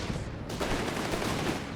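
Machine gun fire in the real-time strategy game Company of Heroes 3 rattles in dense, fast bursts within a busy battlefield din, fairly quiet and distant-sounding with no talk.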